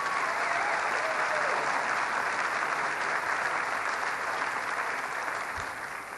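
A crowd at a government announcement event applauds, a loud, thick, continuous roar of clapping that holds steady and tapers off only slightly near the end.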